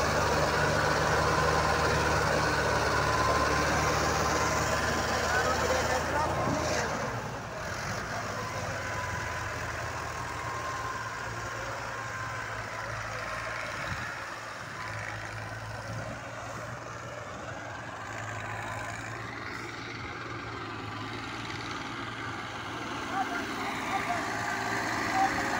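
Mahindra 585, Sonalika 60 and Same 503 tractor engines run together in a steady, continuous diesel rumble and roar, with people talking faintly in the background.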